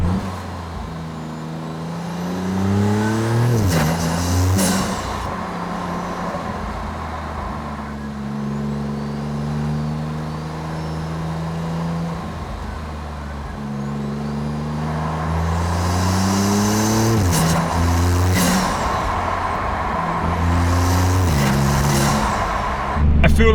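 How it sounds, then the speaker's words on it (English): Maserati MC20 turbocharged engine pulling hard while driving, its pitch rising repeatedly as it revs through gears, loud and close and continuous, with turbo whooshes between the pulls. "Can you hear these turbo sounds though?"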